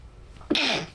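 A single sharp, loud sneeze bursts out close to the microphone after a moment of quiet room noise.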